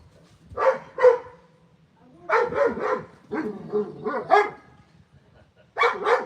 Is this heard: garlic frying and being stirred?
no